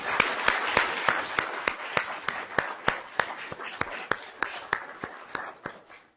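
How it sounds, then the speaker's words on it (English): A round of applause from the audience at a law school moot court competition final, with sharp individual claps standing out over a steady, moderately close wash of clapping throughout. "Just a round of applause."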